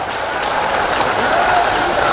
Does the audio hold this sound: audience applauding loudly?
yes